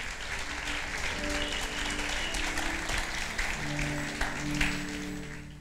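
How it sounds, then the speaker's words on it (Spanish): A church congregation applauds loudly and steadily as a dense wash of clapping, with a few faint voices and tones underneath. "Dale un fuerte aplauso al Señor"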